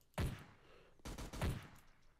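Gunfire in a mafia-themed video game, two loud, close blasts about a second apart, each with a short ringing tail and no voices over them.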